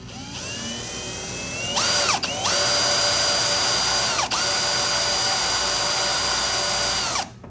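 A power drill with a dull 1/8 inch bit whines loudly in sustained bursts, briefly pausing twice before running on steadily at a high, strained pitch.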